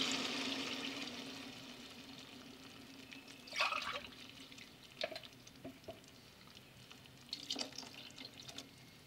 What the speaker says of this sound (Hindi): तो इसमें मैं शामिल कर रही हूँ पानी।